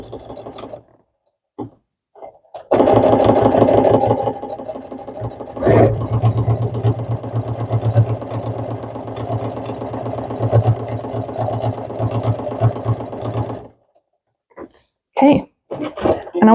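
A home sewing machine runs steadily for about eleven seconds, stitching a seam across a quilted Christmas pot holder; it starts abruptly, hums close and loud with a mechanical rattle, then stops, leaving brief soft handling noises.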